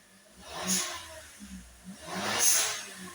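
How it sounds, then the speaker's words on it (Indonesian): A Toyota Raize GR Sport with a 1.0 turbo engine and an added blow-off valve revs twice, and each rise ends in a sharp airy hiss from the valve over a low engine hum. "Makin gas makin gede makin kencang suaranya."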